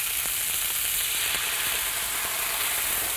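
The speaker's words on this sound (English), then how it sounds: "I'm going to add my reserved au jus from cooking the meat itself." Reserved meat au jus sizzles in a hot pan beside a sous-vide steak, giving a steady, loud hiss of frying with faint crackles throughout and no talk.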